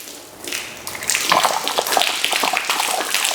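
Water sprays and gushes while a horse is washed down after a beach ride: a splashing, hissing stream that swells in and keeps running, with spattering bursts over a fairly close, steady flow.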